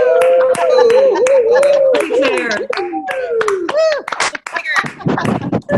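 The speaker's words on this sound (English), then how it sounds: "Give me the clap." Scattered hand clapping from a few people joining a virtual book launch, brief claps mixed in with overlapping voices and someone speaking throughout.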